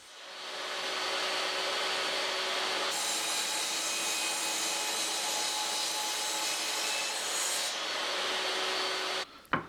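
A miter saw cuts wooden boards for an apothecary cabinet in one long, loud, steady whine lasting most of the clip, ending with a sharp clunk as the blade stops.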